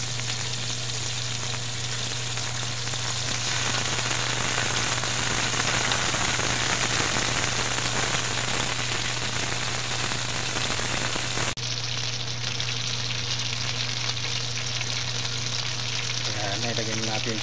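Tomato sauce going into a hot frying pan, giving a steady, dense sizzle like rain on a surface. The sound is constant and fairly close, and it dims slightly partway through.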